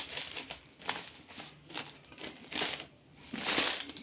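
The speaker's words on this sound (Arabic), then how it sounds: "يعني احنا كده فتحنا ال 12 كيس" Plastic biscuit snack wrappers crinkle and rustle up close in several uneven bursts, as bags are opened and handled one after another, with brief quieter gaps.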